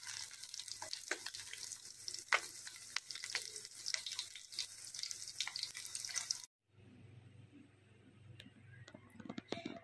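Small river fish fry in oil until golden, giving a faint, steady crackle and sputter with scattered drip-like pops, a brief cut partway through.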